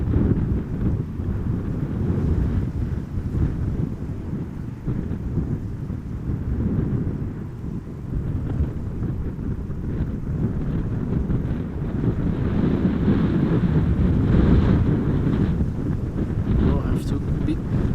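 Strong, steady wind roars and buffets the microphone at Amsterdam Schiphol Airport, a dense low rumble running unbroken throughout and masking any other sound.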